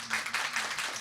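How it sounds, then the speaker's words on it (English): Applause from an audience at a Lithuanian discussion festival stage event, a brief burst of steady broadband clapping that sounds moderately near and fills the whole moment, with no speech over it. "we will welcome her to this conversation with a big round of applause"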